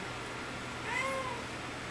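A cat gives a single soft, rising-and-falling meow indoors, faint and close against quiet room noise.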